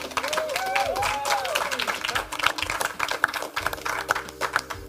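Audience applause opening a live Raclette grill challenge event in a garden, with scattered clapping, some whoops and voices mixed throughout at moderate level.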